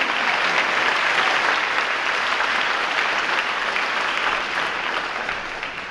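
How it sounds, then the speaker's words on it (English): An evening school awards audience applauds the musical ensembles with loud, dense, sustained clapping that fades slightly toward the end. "Let's give another round of applause for ensembles performing this evening."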